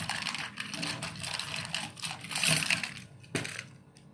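A package holding a bundle of three books is unboxed by hand, giving close rustling, crinkling and scraping of packaging in uneven bursts with a sharper knock near the end, and no one speaking.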